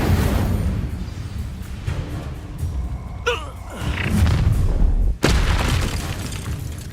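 An Incendio fire spell cast in Hogwarts Legacy bursts out with a booming whoosh and crackle, followed a little later by a sharp, heavy thump against a dense game soundscape.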